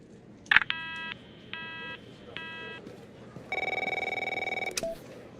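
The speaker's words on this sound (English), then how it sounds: "My phone's ringing off the hook here." A telephone rings in the video game The Operator: a loud click, three bursts of electronic ringing, then a longer stronger ring, all clear and close with no talk.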